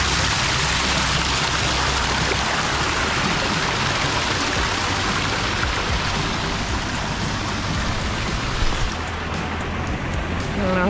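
Steady rushing roar of a waterfall at Disney's Aulani resort in Hawaii, loud and close, broadband and constant throughout with no pauses.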